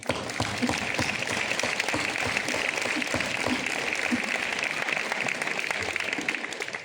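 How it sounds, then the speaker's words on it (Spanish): Festival audience applauding a pregón speech in Torremenga, Cáceres, during the Fiestas de Nuestra Señora del Consuelo; dense, steady clapping fills the whole stretch at an even level. "Creo que también se merecen un aplauso."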